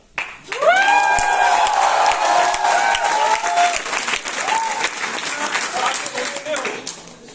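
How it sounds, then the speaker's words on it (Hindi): A team audience at a regional corporate gathering bursts into loud applause, sustained and fairly close, fading slightly toward the end, with raised voices and cheers mixed into the clapping. "मुझे लगता है ये ग्रैटिट्यूड वाली ताली बहुत ही कम है"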